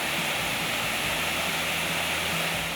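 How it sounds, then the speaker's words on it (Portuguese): Waterfall at Rio Branco do Ivaí, a dense, continuous roar of falling water with no breaks, loud and steady throughout. "ao final, o passeio é ainda mais recompensado pela visão da cachoeira e o som das águas"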